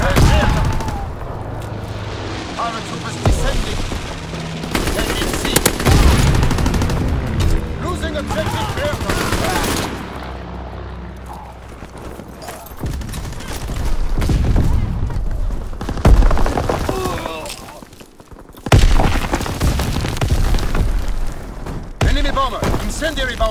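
Call of Duty WWII gameplay is full of chaotic gunfire and bomb explosions: loud bursts of shots, heavy booms and rumbling blasts that come and go in waves, with voices mixed in among the battle noise.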